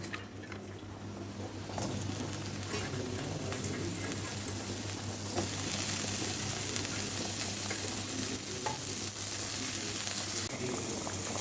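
Bitter gourd fries in hot oil in a pan, a continuous soft sizzling and bubbling hiss that holds steady and moderately loud throughout.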